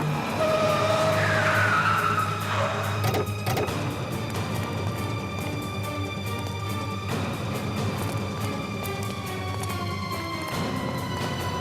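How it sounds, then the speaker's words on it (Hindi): A car skids with a rising tyre squeal early on, then a steady, loud broadband road and engine rumble continues to the end, with no talking. "लगता है टायर पंचर हो गया।"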